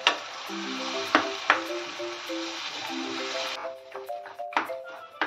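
A spatula stirs a pan of peeled roasted brinjal mixture for bharit, with a soft sizzle and scraping sounds and a few sharp taps of the spatula against the pan, while gentle background music plays.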